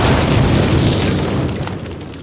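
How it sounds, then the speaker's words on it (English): Game explosion of charges blowing a cinder block wall in a Call of Duty training mission, a loud, close, sustained booming blast with rumbling debris that slowly fades, no voices. "Place your explosives on the cinder block wall."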